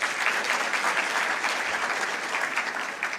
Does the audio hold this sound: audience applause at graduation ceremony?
yes